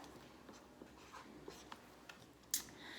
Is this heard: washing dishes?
no